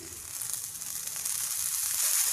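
Coriander leaves sizzle on a hot griddle over a gas flame, a steady close hiss and crackle that grows slightly louder toward the end, with no talking.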